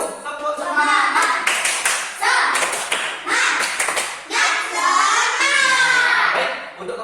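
Classroom children perform a rhythmic spirit clap together, loud, close bursts of unison clapping in patterned groups separated by short pauses, with children's voices chanting along.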